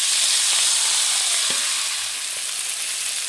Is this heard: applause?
no